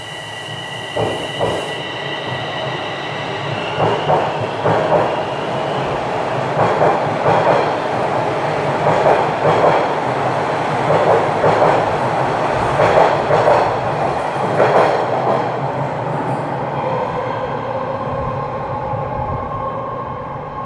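Toronto TTC subway train running through a tunnel, heard from inside the car: a steady rumble with rhythmic wheel clicks over rail joints and some squeal, loud and continuous throughout.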